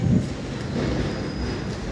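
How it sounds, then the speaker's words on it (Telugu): A train rumbles at a railway station with a steady low rolling noise and a faint high squeal, continuous and moderately distant over two seconds. "రైల్వే స్టేషన్, ఈ యొక్క స్టేషన్ ఎలా ఉంటుంది."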